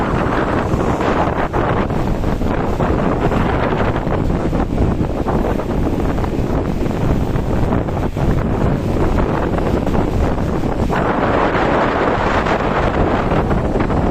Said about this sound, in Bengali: লাইলা পুরার ঝড়।